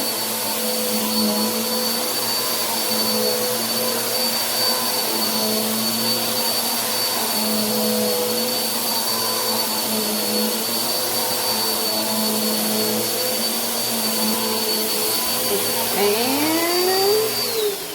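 A Bissell PowerForce Helix vacuum cleaner runs on carpet with a steady loud motor drone and high whine, continuous and close, with a brief pitch shift near the end as it is moved.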